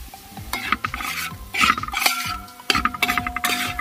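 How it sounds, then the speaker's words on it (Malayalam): Spice powders, including Kashmiri chilli and ground fenugreek, frying in oil for a toddy-shop fish curry, a quiet sizzle broken by brisk stirring scrapes and metallic clinks of a spoon on the pan, close, no voices. "പൊടികളൊക്കെ നല്ല രീതിയിലൊന്ന് മൂത്ത് വരട്ടെ കേട്ടോ"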